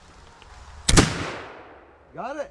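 Flintlock rifle fired outdoors in the rain: one sharp, loud crack with a decaying rumble, followed by a brief spoken remark.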